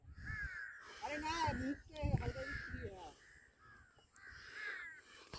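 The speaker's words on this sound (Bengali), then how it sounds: "চারিদিকে কাক ডাকছে, কাক দেখুন শুধু এখানে।" Crows cawing all around an open spot in Kankrasu, Basirhat: a series of harsh, repeated caws from several birds, fairly near, overlapping one another with a voice talking between them.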